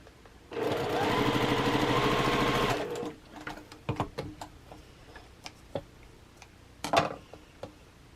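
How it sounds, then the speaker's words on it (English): Sewing machine stitching rows of quilt blocks together: a loud, fast, even mechanical whirring run of about two seconds, then stops, followed by scattered clicks and handling taps. "And then I'm going to sew this top row together."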